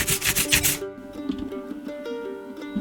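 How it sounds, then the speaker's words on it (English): Two-part epoxy is stirred together for a shattered banjo headstock repair, a short burst of gritty scraping and rubbing up front, then quieter intermittent scrapes over a steady tonal background. "2 parts of epoxy and you stir it together"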